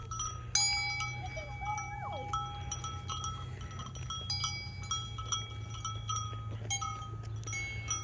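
Sheep in a field bleat close by while cowbells clink and ring steadily over a continuous low hum of background noise.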